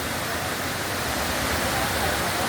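Steady rushing roar of a gentler stretch of Aruvikuzhy waterfall in Kerala, where people bathe below, filling the whole moment at constant loudness with no distinct voices rising above it.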